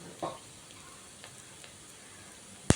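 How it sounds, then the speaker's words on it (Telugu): Marinated chicken sizzles faintly in a hot pan for a biryani, a soft steady fry with one sharp knock near the end. "ఇందాక మ్యాగ్నేట్ చేసి పెట్టుకున్నాం కదా ఒక బౌల్లో చికెన్, అది వేసేద్దాం"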